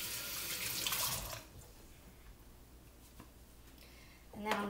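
Tap water runs from a kitchen faucet as hands are washed while preparing Cornish game hens, a steady broadband rush in the first second that then fades to a low background, with a brief splash near the end.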